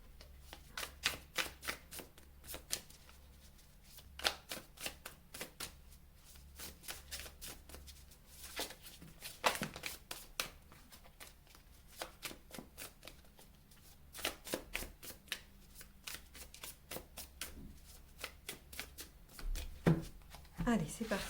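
Oracle cards being shuffled and drawn by hand for a reading, with crisp riffling flutters and sharp snapping card slaps repeating throughout, close up and intermittent, while someone talks over much of it.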